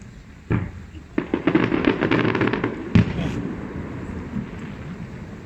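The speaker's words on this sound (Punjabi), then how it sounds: "ਉਹ ਸਾਹਮਣੇ ਤੁਹਾਨੂੰ ਨਜ਼ਰ ਆਉਂਦਾ ਹੋਵੇਗਾ ਪਾਣੀ ਦੇ ਵਿੱਚੋਂ ਆਤਿਸ਼ਬਾਜ਼ੀ ਦਾ ਮੁਜ਼ਾਹਰਾ" A fireworks display shooting up from water in a park in Germany, with a rapid cluster of crackling bangs and pops in the middle followed by a lingering rumble, with a voice talking nearby.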